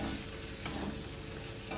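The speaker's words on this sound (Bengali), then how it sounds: "ভেন্ডিটা পুরো ভাজা হয়ে গেছে, ভেন্ডির থেকে তেলও ছেড়ে গেছে" Okra fries in oil in a pan, giving a steady, even sizzle with no voices.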